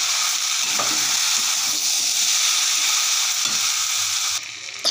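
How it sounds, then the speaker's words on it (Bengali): Unripe jackfruit, shrimp and potatoes being sautéed in a pan, a loud continuous close sizzle with a few spatula scrapes, dropping slightly in intensity near the end, with no speech. "তাহলে আজকে আমার ইঁচড় চিংড়ি কষানো হয়ে গেছে, হয়ে এসছে।"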